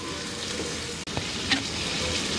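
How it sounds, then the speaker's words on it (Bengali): Tomatoes frying in a pan for a Chinese-style egg and tomato dish, giving a steady close sizzle throughout with a brief break and a couple of small clinks or stirs. "সেগুলো আমি একটু ভেজে নিব"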